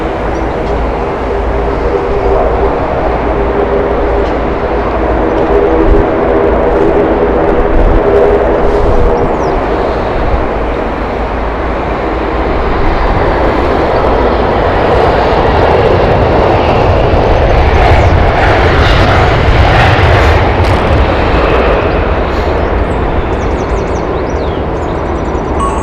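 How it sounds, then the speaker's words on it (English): A Eurowings Airbus A319 jet at Heathrow Airport, a loud, sustained engine roar with broadband rumble that swells and gradually changes as the aircraft moves past, with no talk. "This is Düsseldorf flight, Airbus A319."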